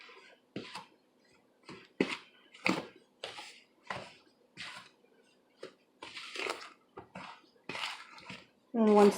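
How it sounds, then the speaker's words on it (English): A whisk scraping and clinking in a bowl while dry chocolate cake ingredients are mixed, in irregular close strokes with short pauses between them. "we're going to go ahead and just mix up, incorporate very well all the dry ingredients"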